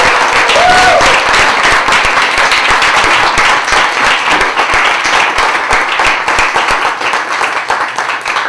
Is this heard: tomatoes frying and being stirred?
no